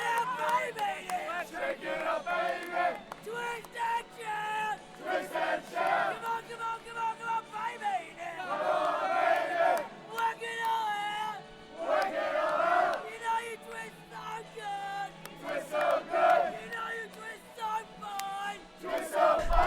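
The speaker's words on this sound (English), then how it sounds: "They were belting it out the entire ceremony." A large crowd belting out a song together during a ceremony, loud and continuous with rising and falling swells of massed voices, many people singing at once, sounding like a packed stadium.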